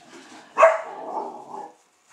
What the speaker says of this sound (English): And now the dogs are barking because the cats are teasing them.